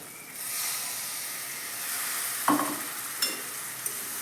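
Dahi potol curry hisses and sizzles in a pan as the lid comes off and it is stirred, a steady close frying hiss with a couple of brief scraping knocks and no talking.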